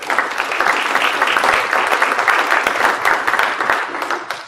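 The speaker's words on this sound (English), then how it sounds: "So that too deserves a round of applause." Audience at a school board meeting breaks into steady applause, many hands clapping densely and evenly for several seconds and fading slightly at the end.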